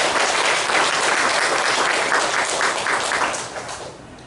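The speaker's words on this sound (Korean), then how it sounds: "천지인 참부모님께 다시 한번 감사와 영광의 박수를" Worshippers at a Korean Sunday church service giving a round of applause, a loud dense wash of clapping that holds steady and then thins and fades toward the end.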